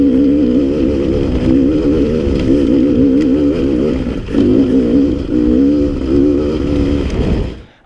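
A 2017 Beta 300 RR two-stroke dirt bike in low gearing revs loudly and continuously at close range, its engine note rising and falling in a steady buzzing drone before cutting off at the end.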